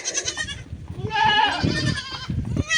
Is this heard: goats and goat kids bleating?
yes